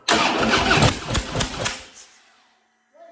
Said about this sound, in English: Now I'm just gonna click the starter.